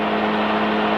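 Magni M24 gyrocopter engine droning steadily as the revs are brought back, a loud continuous hum with strong even tones throughout, heard from close inside the cockpit with no talk.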